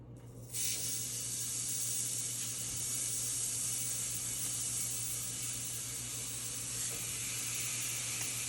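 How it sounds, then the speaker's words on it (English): Pork chops sizzle in a hot pan. The hiss starts abruptly and holds steady and close throughout, with no voices over it. "sizzling."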